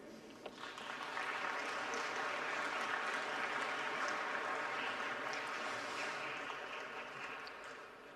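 Congress audience applauding in a large hall at a party congress, a sustained dense roar of clapping that swells after the first second and stays even and loud before easing slightly at the end.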